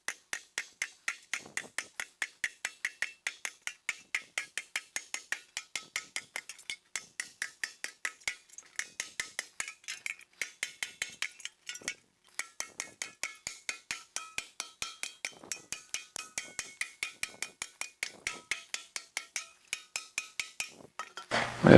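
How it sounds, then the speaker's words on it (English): A sharp pointed mallet strikes a sheet-metal motorcycle fender in a long run of rapid, crisp metallic taps, steady and close, with only brief pauses between bursts. "I'm going to get the sharper pointed mallet here."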